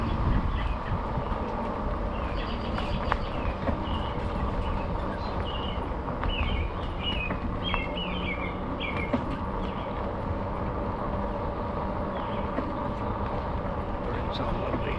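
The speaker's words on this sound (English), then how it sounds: "Birds sound lovely." Birds chirp and tweet in short scattered phrases over a steady low rumble at a lake in the evening, faint and somewhat distant, with the background noise continuous throughout.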